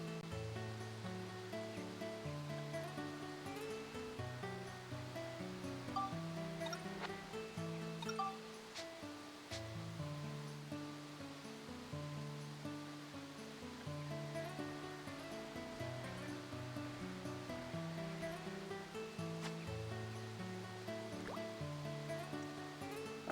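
A waterfall rushes in a steady wash in the video game Dark Cloud 2 during a fishing scene. Melodic game music plays throughout on top of it, and no one speaks.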